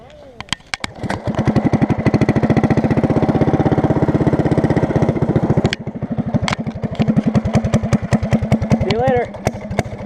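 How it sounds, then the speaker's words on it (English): Race kart engine running nearby, a loud rapid single-cylinder putter that climbs in pitch with throttle, eases off briefly, then pulls again, with a voice heard over it. "this is a race kart, actually"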